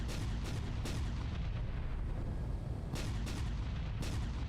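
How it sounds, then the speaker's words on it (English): Video game gunfire on an alien planet, heavy booming shots in irregular bursts over a constant low rumble, loud and dense throughout. "What are you shooting at?"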